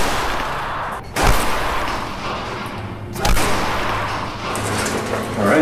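A single loud gunshot fired into a medical implant during a ballistics test, a sharp blast followed by a second loud report about two seconds later, both standing out against steady background noise.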